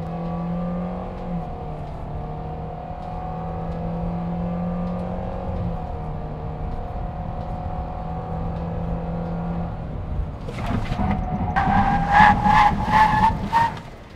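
A car with the air conditioning running accelerates hard toward 100 km/h ahead of a braking test. A steady engine drone rises into a louder, revving climb with rising gear tones over the final few seconds.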